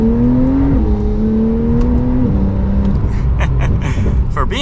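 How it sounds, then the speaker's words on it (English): A new 992-generation Porsche 911 Carrera base model with its turbocharged engine pulling away from a stop, a low steady engine drone with a tone that steps through gear changes, heard from inside the cabin. "All right, so we are setting off now in the Porsche 911."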